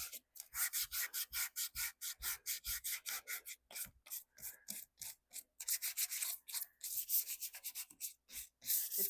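Rapid back-and-forth strokes of sandpaper rasp by hand against wooden spindles in a steady rhythm, close and distinct, with brief pauses between bursts.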